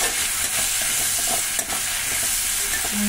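Food frying in a pan during a home Bengali cooking session, a steady close sizzle with occasional stirring scrapes running throughout without talk.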